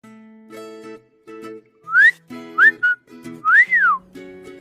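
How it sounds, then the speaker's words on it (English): A person whistles short, bright rising and falling notes in a few quick phrases over a soft backing melody, close and clear. "What you whistling about"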